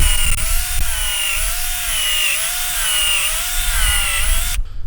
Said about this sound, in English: we're going to drill a hole every 4 to 5 inches in a straight line down the log